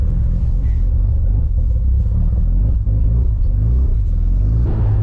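A Mazda RX7 with a Bathurst R streetport rotary engine, heard from inside while driving, as a steady, loud, low rumbling drone with no let-up.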